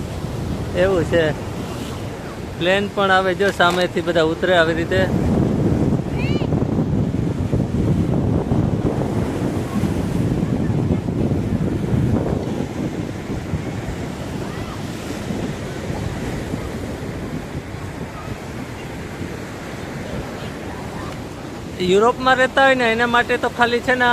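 Sea waves roll and wash continuously onto a beach in France, a broad rushing surge mixed with wind buffeting the microphone, with people talking at the start and end.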